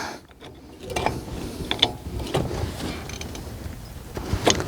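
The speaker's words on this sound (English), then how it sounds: "get my flathead screwdriver and just pry the pistons back on the brake a little bit" A flathead screwdriver prying the brake caliper pistons back on a Ford Ranger, giving scattered metallic clicks, creaks and scrapes close up over a low workshop background.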